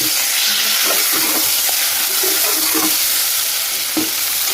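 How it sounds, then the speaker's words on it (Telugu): Eggplant curry with turmeric stirred in a pan, a continuous close sizzle broken by irregular spoon scrapes and clinks, with no talking. "ఇది అన్నీ కలుపుకోవాలండి ఒకసారి."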